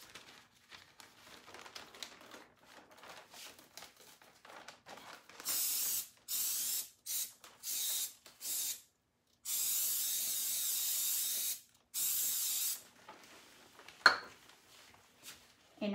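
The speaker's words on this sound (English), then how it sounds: "So I'm going to spray once again." An aerosol can sprays onto a decoupage project in a series of short and longer hissing bursts, close and fairly loud, separated by quiet gaps with faint handling sounds.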